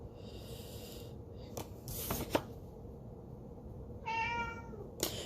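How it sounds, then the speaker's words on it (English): A vocal pet cat meows indoors, one clear drawn-out meow rising near the end with faint rustling and a few brief clicks around it. "Please ignore my cat. He's being very vocal lately."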